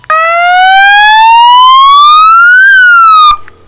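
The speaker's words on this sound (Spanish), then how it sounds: "Es tipo sirena." A police and ambulance siren horn sounds its second tone, a loud electronic wail that sweeps steadily upward, then drops briefly before cutting off, with no talk over it.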